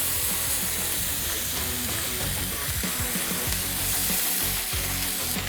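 Sauteed onions, jalapenos and bacon on a flat top griddle give a loud, dense, continuous sizzle with crackling fat spatter and steamy hiss, close up and unbroken, with no talking.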